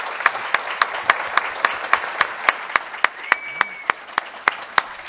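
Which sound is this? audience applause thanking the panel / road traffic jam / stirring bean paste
audience applause thanking the panel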